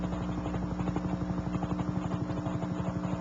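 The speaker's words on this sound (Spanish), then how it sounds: "y el sonido de un helicóptero." A helicopter flies steadily nearby, its rotor throbbing in a fast, even pulse over a continuous engine drone, with no voices.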